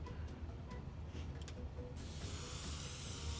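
An airbrush sprays residual thinner through to clear the chamber, a steady close hiss starting midway and holding loud to the end, after a quieter stretch of faint clicks.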